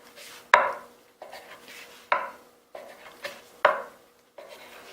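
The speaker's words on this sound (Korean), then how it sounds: "저는 일단 껍질부터 제거를 할게요" A knife cuts the crust off slices of white sandwich bread on a board. About seven rhythmic, close strokes each land with a firm knock and a short rasping drag.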